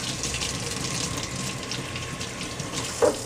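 Water runs steadily from a tap as a removable part of a Soyajoy G4 soy milk maker is rinsed, a continuous close hiss with a brief knock near the end.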